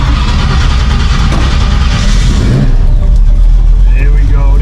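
A classic Ford Mustang engine turns over and catches, then settles into a loud, rough rumbling idle, with a voice speaking over it.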